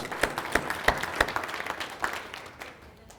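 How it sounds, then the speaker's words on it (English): Applause from an audience at a presentation event, a burst of claps with a few sharper hand strikes standing out, tapering off toward the end. "Let's give her a nice round of applause."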